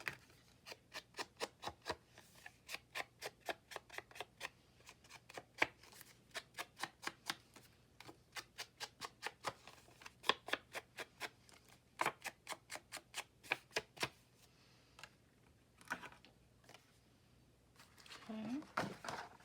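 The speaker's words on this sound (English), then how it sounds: "Ink up those edges" An ink pad is dabbed repeatedly along the edges of a sheet of paper for a folder journal, giving dozens of quick, crisp taps and brushing strokes in a steady rhythm, with a voice briefly at the end.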